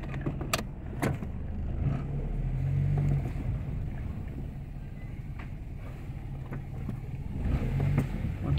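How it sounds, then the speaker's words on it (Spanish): A car engine that refuses to accelerate properly, with its check-engine light on and no fault codes, is floored hard. A deep, loud rumble swells twice, with faint clicks and road noise around it. "Último acelerón brusco para descartar."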